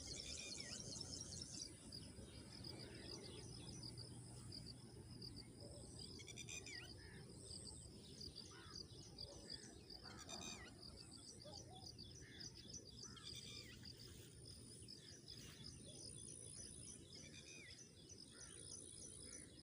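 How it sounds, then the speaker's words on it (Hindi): Birds chirp and tweet outdoors in scattered bursts, mixed with a continuous insect trill and soft ambient noise. "अभी आप बिल्कुल इंजॉय करें कुदरती माहौल या परिंदों के चहचहाने की आवाज़"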